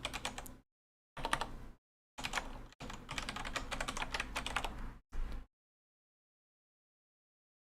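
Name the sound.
typing on Kinesis Advantage mechanical keyboard, Cherry Brown switches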